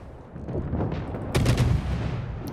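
Naval guns fire in the video game World of Warships, with repeated heavy booms and a louder salvo midway, set against a continuous low rumble.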